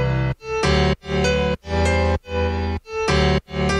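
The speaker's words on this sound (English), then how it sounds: "grab a piano, make sure the drop sounds something like this." A piano drop in an electronic pop track plays rhythmic chopped chords in short bursts separated by brief gaps, loud and full, with no voices.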